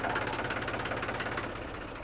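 A tractor engine idles with a steady, fairly faint, rhythmic knocking chug and no voices.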